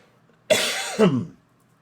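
Two harsh coughs in quick succession from one person, close and fairly loud, then quiet.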